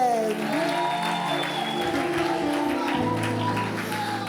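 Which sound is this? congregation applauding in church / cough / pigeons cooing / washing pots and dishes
congregation applauding in church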